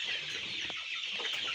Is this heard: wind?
no